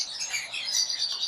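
Blue cinnamon conures in a pet shop give a brief burst of high, shrill chirping, several birds calling together close by.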